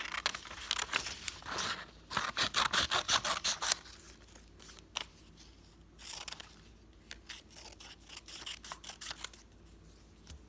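Scissors snipping through paper as pieces for a simple stick figure are cut out, with bursts of rapid close snips separated by pauses and light paper rustling.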